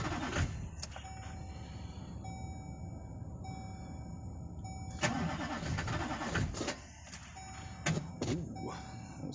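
A GMC work truck's starter cranks on a cold start, with repeated bursts of cranking and chattering effort broken by short pauses, close and loud against a steady background hum.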